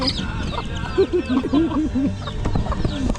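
Chickens and chicks clucking on a village street in Pulong Kabyawan, Bulacan, a quick series of close clucks with faint chirps over outdoor background noise.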